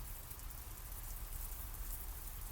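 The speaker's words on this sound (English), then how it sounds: "Oh, it's raining." Steady, even hiss of rain falling in the video game Tales of the Black Forest, constant and soft with no voices over it.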